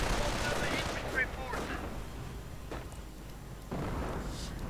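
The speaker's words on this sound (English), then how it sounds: "Mortar rounds flying in. More grenades." Mortar rounds and grenades going off in a strategy video game, a string of sharp gunfire-like bursts and thuds spread across the clip.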